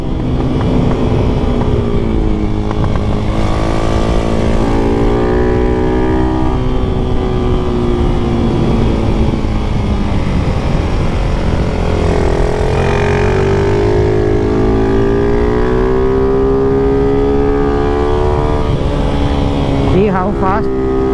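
A KAYO motorcycle riding on a race track, its engine droning loudly and continuously with rising and falling revs as it moves through corners, someone talking over the steady engine noise.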